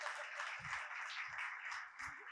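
Faint, steady clapping from a small studio audience, thin and low in level, with a few soft low thumps scattered through it.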